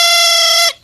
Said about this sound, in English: This is called a thrump warbler.